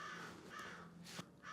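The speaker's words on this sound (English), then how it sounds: "Man, come on, crows." Crows cawing outdoors near a woodworking shop, with a couple of harsh caws standing out over steady background noise, one sharper call near the end.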